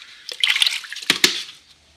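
Sandpaper being dipped into water while restoring a car's door pillar trim: a few quick splashes and drips, close and fairly loud, with short watery sloshes and no talking.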